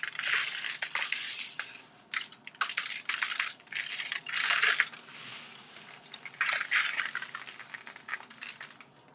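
Crushed glass being handled and patted by hand for a candle holder craft, a dense, continuous gritty crunching and rattling in close bursts with short pauses between.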